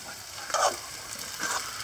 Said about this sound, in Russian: опята с картошечкой жареной